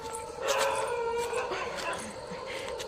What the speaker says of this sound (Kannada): ನಾಯಿ ಬೊಗಳ್ತೈತೆ.